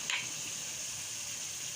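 Potatoes fry with minced meat in a pan for dhaba-style aloo keema, giving a steady, even sizzle that holds without pause, with a faint stirring scrape near the start.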